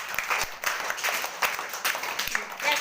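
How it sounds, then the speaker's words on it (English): A small group of children clap in a classroom game, uneven bursts of hand claps scattered over a few seconds, close and moderately loud. "Clap it."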